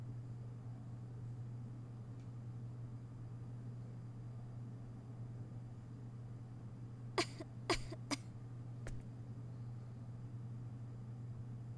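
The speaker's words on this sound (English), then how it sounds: "She sure was coughing a lot." A female character with a cold coughs in a cutscene from the video game Star Ocean: Till the End of Time. About four sharp coughs come close together, then one fainter cough, all over a steady low hum.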